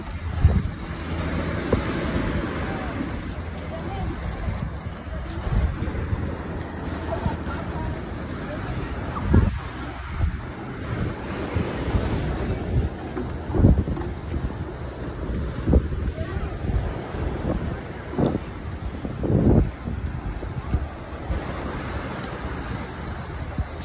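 Wind and surf at the Venice fishing pier beach in Florida under a clear sky, steady gusty wind noise buffeting the microphone over a continuous wash of breaking waves, with a few louder bursts throughout.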